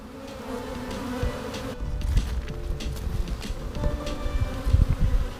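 Bees buzz around a rotting wooden hive where they have chewed their own entrance through the side, a steady close hum with bursts of louder wingbeats as individual bees pass near.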